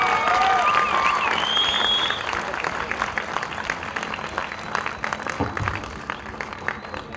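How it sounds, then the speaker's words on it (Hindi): Applause from an audience at a tour and travel company launch event, steady clapping from a crowd that starts loud and gradually thins out, with some voices over it. "चलो ना, ताली मारो ना, क्या शर्माते हो यार."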